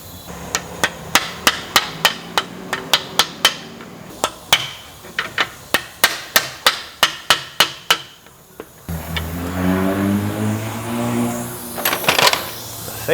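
A hammer strikes a car axle on a creaking front end in about twenty sharp, evenly spaced metallic taps, followed by a louder grinding, clanking stretch.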